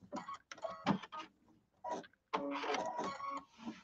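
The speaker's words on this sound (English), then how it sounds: "I'm sewing right down in between those two little lines" A sewing machine stitches a pillow in short bursts of mechanical whirring with brief pauses between runs, close and moderately loud.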